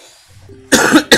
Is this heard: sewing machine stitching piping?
no